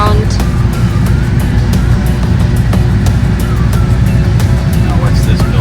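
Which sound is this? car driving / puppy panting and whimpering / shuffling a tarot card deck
car driving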